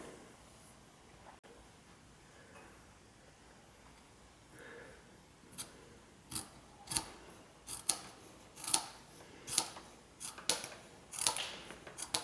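Scissors snip through a crocheted scrap-yarn scarf fringe, a series of sharp, close cuts arriving in a fairly regular rhythm after a quiet start.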